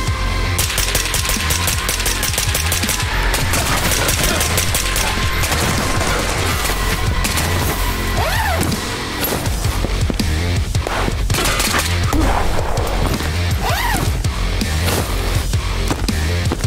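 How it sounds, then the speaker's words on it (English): Dense, continuous automatic gunfire from a VR shooter game fills the scene, loud and close with rapid repeated bursts, occasional booms and whooshing effects layered throughout. "Blind firing."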